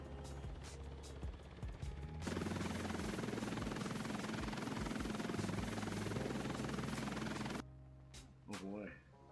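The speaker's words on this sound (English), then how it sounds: "That is loud. The helicopter must be stuck in the ground." A loud, dense helicopter engine roar with rotor chop in a Roblox Studio game, from a helicopter stuck in the ground, dominates for several seconds, then cuts off abruptly, followed by a short burst of talking.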